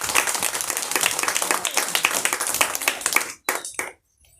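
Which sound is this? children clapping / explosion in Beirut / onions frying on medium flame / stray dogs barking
children clapping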